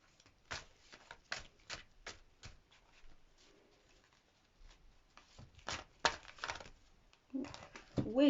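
Tarot deck being shuffled by hand, a run of soft, quick riffles and card slaps in short bursts, quiet and close, with a brief murmur of voice near the end.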